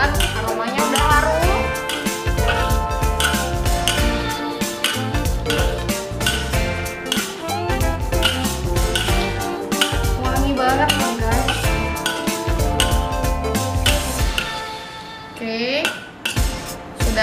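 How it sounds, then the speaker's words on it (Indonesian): Black pepper beef being stirred in a metal pan, a busy run of clinking and scraping utensil strikes against the pan, loud and close, continuing steadily before easing off near the end, with faint talk underneath. "Kita aduk-aduknya guys."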